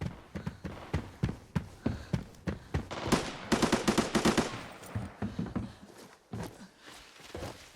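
Gunshots in the Arena Breakout mobile shooter, with rapid single shots in an uneven rhythm, a sustained automatic burst in the middle and a few more shots after, loud and close.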